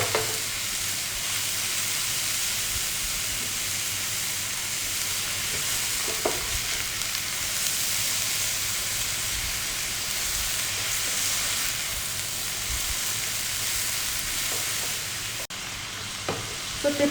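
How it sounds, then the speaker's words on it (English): Zucchini and carrot noodles fry in a spoonful of oil in a pan, giving a steady, even sizzle throughout with a few faint clicks of a utensil. "in goes zucchini and carrot noodles"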